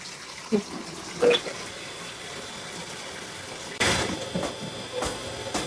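Water runs from a tap in a thin, quiet stream, with a few soft clinks and knocks and a stronger gush toward the end.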